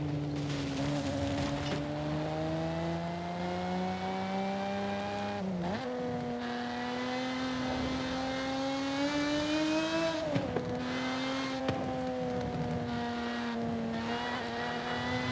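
A supercharged car in the Forza Horizon 5 racing game revs loudly and steadily, its engine pitch rising and falling through gear changes with occasional backfire pops, no speech.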